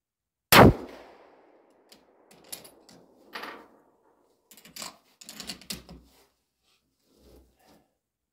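A single sharp, loud gunshot rings out near the start from a shooting booth on a windy range, followed by a long decaying echo, then scattered faint clicks and handling noises.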